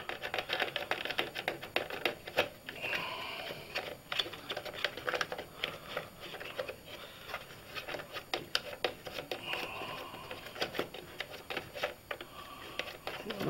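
A button being screwed into place on an arcade cabinet under renovation, heard as dense, quick, close ticking and clicking scrapes of small threads turning, with faint speech underneath.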